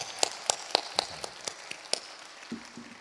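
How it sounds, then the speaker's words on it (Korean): Scattered handclaps from an audience at a university talk concert, sparse and spaced out rather than a full ovation, fading to a low murmur at the end. "준비해 주신 분들에게 우리 같이 박수를 보내버립시다."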